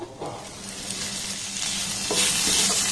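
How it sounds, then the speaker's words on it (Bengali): A vegetable mixture with carrot, potato and flour fries in a pan. The hissing sizzle is close and swells louder toward the end, with no voices over it. "আবারও সমস্ত উপকরণ একটু নাড়াচাড়া করে ভেজে নেব"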